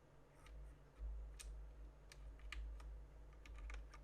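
Plastic keycaps being pried off a computer keyboard during cleaning, giving a scatter of sharp clicks and ticks at uneven intervals, close and fairly quiet over a low steady hum.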